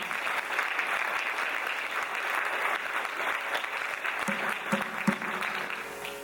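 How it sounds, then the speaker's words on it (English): Sustained audience applause for an orchestra at a Bharatanatyam arangetram dance recital, a dense steady wash of many hands clapping with a few louder claps standing out near the end. "Another round of applause for our wonderful orchestra this evening."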